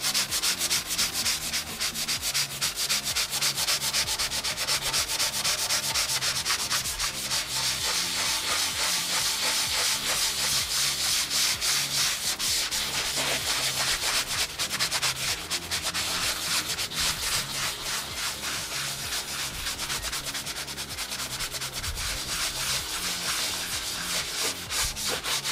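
Primer on a DDR arcade cabinet is hand-sanded with continuous, close, rhythmic rubbing strokes that go on steadily, with no talk.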